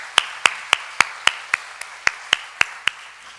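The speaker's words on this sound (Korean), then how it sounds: "격려의 박수하겠습니다." Ten sharp, evenly spaced claps ring out in a church worship service, crisp and close with a slow steady rhythm, like a single person or small group clapping in unison rather than a full ovation.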